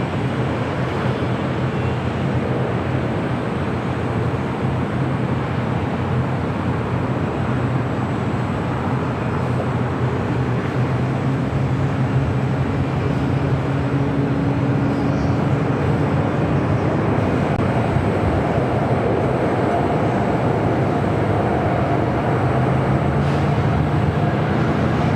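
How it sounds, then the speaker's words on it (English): A United Boeing 757-200 airliner rolling down the runway at LAX, a steady broad jet engine roar that holds loud and constant throughout, heard from a distance across the airfield. "United 757-200 rolling down to 25 right"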